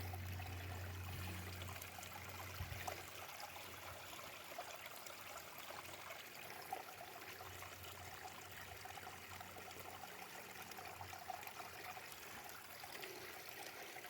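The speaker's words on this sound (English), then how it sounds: "Just a couple little mini waterfalls going on there." A small mountain stream in the Cheaha Wilderness of Talladega National Forest trickles over little mini waterfalls, a steady, close, unbroken rush of water with no talking.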